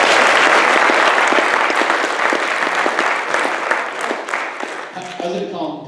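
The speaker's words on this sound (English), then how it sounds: "Let's give a round of applause for Jason." An audience at an August meeting gives a speaker a sustained round of applause, dense clapping that starts loud and gradually thins out before a voice begins speaking at the end.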